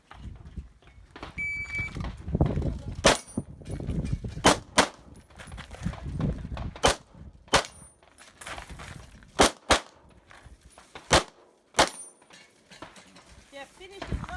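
Pistol shots ringing off steel mini popper targets during an IPSC World Shoot stage run: about a dozen sharp, loud reports come in quick bursts, with metallic impacts and a murmuring crowd underneath.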